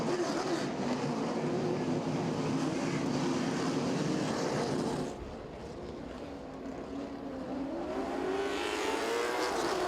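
Late model stock cars racing at East Carolina Motor Speedway, a loud roaring engine pack passing close with shifting pitch, dipping briefly midway before the roar swells again as more cars approach.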